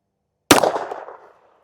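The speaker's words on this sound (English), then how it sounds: "now we have the Beretta Cheetah with this Hornady Critical Defense" A Beretta Cheetah pistol fires one round of 90 gr Hornady Critical Defense .380 ACP, a single sharp, loud report that rings out and decays within about a second, followed by silence.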